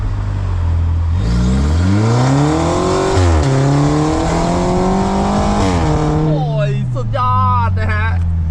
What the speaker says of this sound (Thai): ลองฟังเสียงเตะเกียร์อีกทีไหมข้างนอกว่ามันโหดแค่ไหนครับ